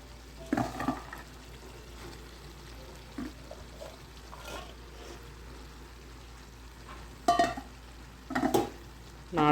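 Native broad beans tip into a pan of softened frying tomatoes for a curry, giving a low steady sizzle broken by several louder clattering and scraping bursts as they land and are stirred, close by with no talking.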